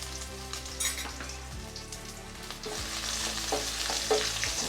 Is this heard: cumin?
yes